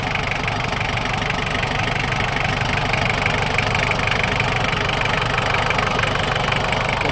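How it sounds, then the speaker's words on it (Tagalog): A revived Toyota L diesel engine, once flood-damaged and rebuilt with new piston, liner and valves, idles steadily with a close, even knocking rhythm and a constant mechanical drone throughout, with no talk. "Sir Gary, umandar na yung Toyota L mo."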